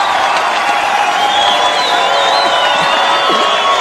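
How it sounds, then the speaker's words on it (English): Audience cheering and applause for a guest on a radio morning show held on a campus, a dense, continuous crowd roar with whoops and clapping at a steady loud level. "Everyone, please give a round of applause and a warm welcoming"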